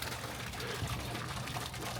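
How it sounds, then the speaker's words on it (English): A pond pump pushes water up from the bottom for circulation on a freezing, snowy day, a steady, moderate watery gush and trickle that runs continuously with no speech. "that water pumps through from the bottom for circulation"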